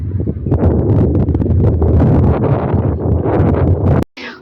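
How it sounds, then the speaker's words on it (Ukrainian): Strong wind buffets the microphone in loud, roaring gusts that continue for about four seconds before cutting off abruptly. "Вітер страшенний, і болото, і вітрисько."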